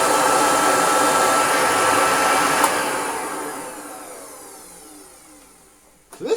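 Hoover Junior upright vacuum cleaner motor running with a loud steady whine that gradually winds down and fades after switch-off, followed by a brief clunk at the end.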